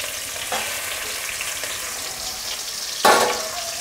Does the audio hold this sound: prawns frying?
yes